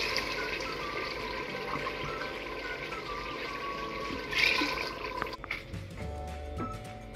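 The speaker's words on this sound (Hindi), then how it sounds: "पानी शामिल करूंगी।" Water is poured into a pot of soaked rice and chana dal, a steady low gush of running liquid that keeps going for several seconds, followed by a few clinks and shuffles near the end.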